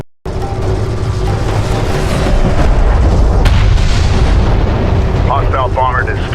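Weapon fire and explosions in the sci-fi strategy game Homeworld: Deserts of Kharak, a dense, loud barrage of booms and blasts rumbling continuously, with a sharp crack midway and brief radio-style voices near the end.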